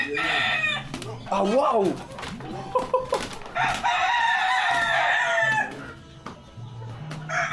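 Roosters crow several times in Venezuela, gamecocks kept for fighting, their loud drawn-out calls rising and falling against clucking and short exclamations from people nearby.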